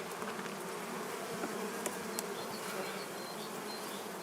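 Honey bees buzzing steadily at a beehive in an early April apiary, a continuous close hum with a few brief louder passes of individual bees.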